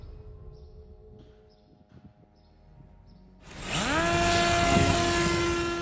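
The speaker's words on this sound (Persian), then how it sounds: "این پهپادها بزرگند و ماموریتشان معمولا انتحاری است." Large Yemeni-made attack drone flying, its engine rising abruptly halfway through into a loud, steady propeller drone with a sweeping pitch, preceded by quieter background noise.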